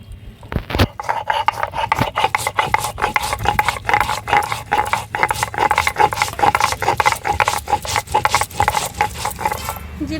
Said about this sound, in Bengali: জিরে নিয়ে নিলাম, এবার এটাকে বেটে নেব।